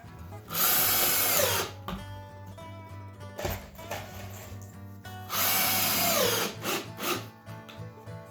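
A power drill drives screws into a hardwood floor patch in two long, loud whirring bursts with brief pauses and short trigger blips between them, close up, with faint clicks from the tool.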